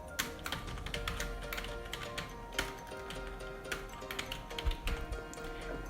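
A name is typed on a computer keyboard, a steady close stream of light clicking keystrokes with an occasional heavier key press, continuing without pause and with no voice.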